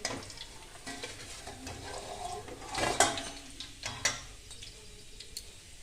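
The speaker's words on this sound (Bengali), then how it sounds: "মাছগুলো আমার ভাজা হয়ে গেছে, এবার আমি তুলে নেব।" Pieces of katla fish fry in oil in a kadai with a soft, steady sizzle, broken by a few louder stirring scrapes and clinks of a metal spatula near the middle.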